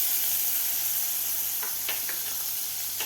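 Butter melts in a hot kadai at the start of a sweet corn soup, giving a steady, close sizzling hiss broken by a few brief crackles and pops.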